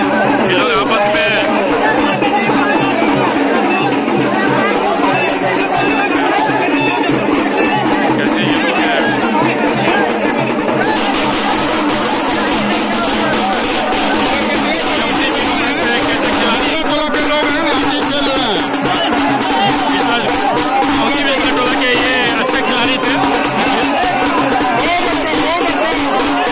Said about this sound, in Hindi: देख सकते हैं दोस्तों ये भीड़